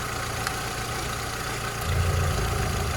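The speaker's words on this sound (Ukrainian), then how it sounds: "Робота двигуна" A Volkswagen Golf engine idles with a steady low rumble and vibration, growing slightly heavier toward the end, with no voices.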